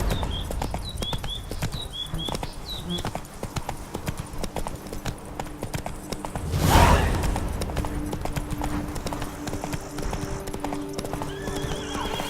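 Roach, the horse in The Witcher 3: Blood and Wine, gallops with steady rapid clip-clop hoofbeats throughout, a loud whinny partway in, and faint game voices and ambience underneath.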